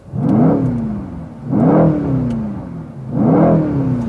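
A 2019 Mercedes-AMG C63 S (W205) V8 revving in race mode, three loud close rising throttle blips about one and a half seconds apart, each swelling then settling back, heard alone.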